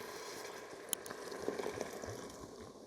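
Guinness stout being poured into an Instant Pot inner pot for an Irish stew, a faint, soft liquid trickle and fizz with a few small clinks, quiet and close.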